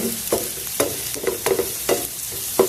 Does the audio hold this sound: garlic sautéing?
yes